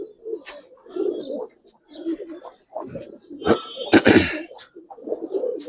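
Giribaz and coloured pigeons coo close by in soft, throaty, repeated murmurs that come in uneven bursts, with a few sharper flutters or clicks mixed in.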